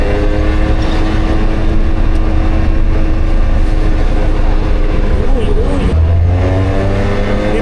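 A motorcycle ridden outdoors with a passenger aboard, its engine droning in a steady, loud roar under constant buffeting wind noise, with a voice faintly audible underneath.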